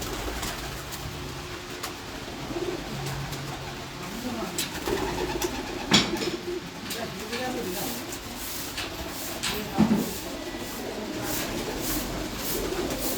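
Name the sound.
pigeon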